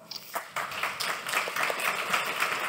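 Audience at a Swiss culture and health forum breaks into applause, scattered claps at first that build into steady, moderately loud clapping.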